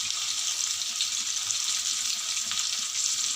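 Eggplant masala curry with tomato pieces, curry leaves and coriander simmers in oil. A steady, close hiss and sizzle holds evenly throughout with no talk over it.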